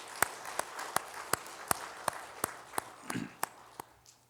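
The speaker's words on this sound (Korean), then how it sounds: "박수 치겠습니다." Congregation clapping during a Korean church worship service, heard as a slow, evenly spaced series of about ten sharp claps in unison, fairly faint, with a brief murmur near the end.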